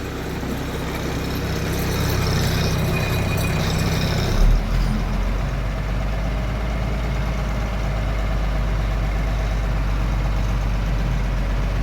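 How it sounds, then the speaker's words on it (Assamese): A vehicle engine runs nearby on a road, a steady low rumble with a louder stretch at first that settles into a constant idle-like drone. "এটা আহিছে ৰং সাইডত আৰু ঘূৰাই নাযায় এই গাড়ী"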